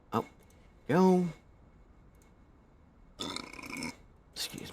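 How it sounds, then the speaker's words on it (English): A loud, voiced burp rises at about one second, standing clearly apart from a few short bursts of speech around it. "Excuse me. I burped."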